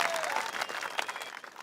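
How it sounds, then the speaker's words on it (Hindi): Crowd applause at a village wrestling event, honoring a chief guest before prizes go to the winning wrestlers; a brief, dense burst of many hands clapping, fairly loud and close, with a faint whistle over it. "तालियां।"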